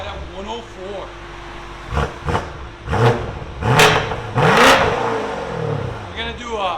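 A 4.4-litre twin-turbo V8 in a BMW M850i with a double X-pipe exhaust revs in several sharp, loud bursts, each rising and falling back to a rumbling idle, with people talking around it.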